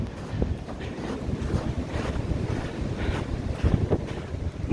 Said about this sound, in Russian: Буря продолжается.